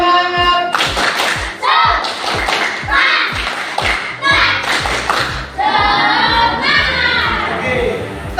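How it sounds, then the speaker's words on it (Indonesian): A school class claps a rhythmic spirit clap, with sharp, loud, evenly timed hand claps in patterned groups as the children chant along. "Kita tepuk semangat, bisa?"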